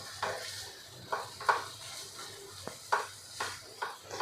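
Spice powders are stirred into a pot of onion tomato biryani, with a spoon scraping and clinking against the pot in short strokes about every half second to second over a faint low sizzle, close by.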